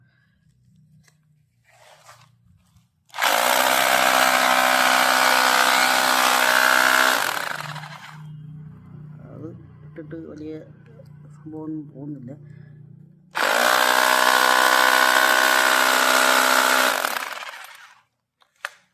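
A Wondercut WC-GP-2-26B rotary hammer in hammer mode breaks rock in two loud, sustained bursts of several seconds each, close by, with someone talking in the quieter gap between them.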